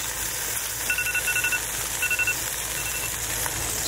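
A digital cooking timer beside an outdoor grill roasting a rotisserie-style homegrown chicken gives two short bursts of rapid, thin electronic beeps over a constant hiss of background noise, with no talking.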